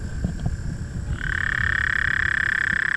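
A big frog croaks outdoors in a rough urban spot, starting as scattered low sounds and then settling into a loud, steady, rapidly pulsing croak that runs to the end with no talking.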